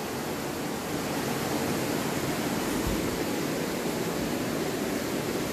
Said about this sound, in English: Then over here, we have this lovely rushing water.